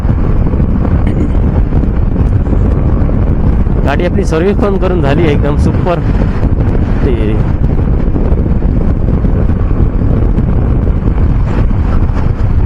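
Strong wind buffets the microphone throughout a motorbike ride up Malshej Ghat in the monsoon, a loud, constant roar that runs the whole way, with someone talking briefly over it.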